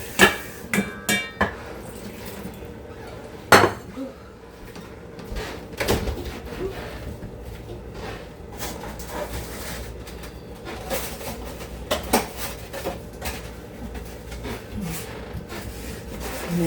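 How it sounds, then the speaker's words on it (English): A small pan taken out in a home kitchen for cooking eggs, with sharp clanks and knocks of cookware, sliding and rubbing sounds, and scattered bumps over a low room background. "Let me get out this little pan here for my eggs"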